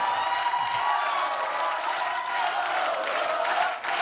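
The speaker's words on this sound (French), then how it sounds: "Marine, elle prend les applaudissements" A television studio audience applauds steadily throughout, a dense wash of clapping with some cheering mixed in.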